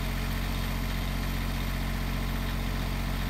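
Rough-idling engine of a Market Mobile vehicle with a misfire, running steadily and close up with a constant low rumble throughout, no voices.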